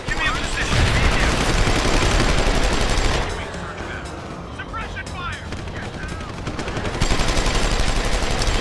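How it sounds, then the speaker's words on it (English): Rapid suppressive gunfire rattles through a firefight in Deus Ex: Human Revolution, loud and dense at first, dipping to a lower volume mid-burst before swelling again, with game sounds mixed in. "Suppression fire."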